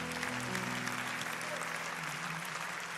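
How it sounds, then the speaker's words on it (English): A church congregation answering a call to clap praise to God, filling the room with a dense, sustained round of applause, a voice briefly audible underneath. "let's give God a hand clap of praise"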